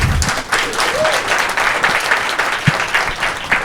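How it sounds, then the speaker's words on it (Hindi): Audience applause at an Urdu poetry performance, a lively crowd clapping at close range with uneven bursts and a few sharper individual claps. "एक बार जोरदार तालियां"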